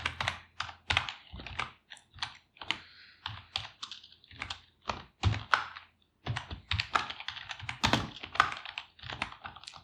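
Code being typed on a computer keyboard, close and fairly loud, with bursts of quick key clicks and thuds separated by short pauses.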